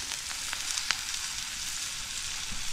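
Fish frying in a pan with cumin, onion and garlic, a steady close sizzle and crackle with a few sharper pops, outdoors on a remote island, no talking.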